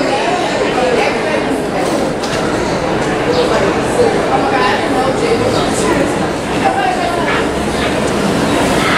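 A Walt Disney World theme park tram rumbles past with steady rolling noise amid a busy crowd, people chattering throughout.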